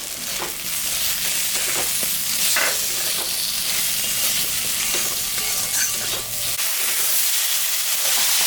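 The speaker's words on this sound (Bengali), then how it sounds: "আলু বেগুনটা ভাজা হয়ে গেছে," Potato and eggplant frying with salt and turmeric in a pan after onions and green chillies, a steady close sizzle with stirring clatter running throughout and no talk.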